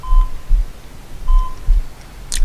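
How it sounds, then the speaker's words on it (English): Two short electronic beeps about a second apart, a steady tone each time, over low rumbling background noise, in the horror video game Fear Up. "I can hear beeping."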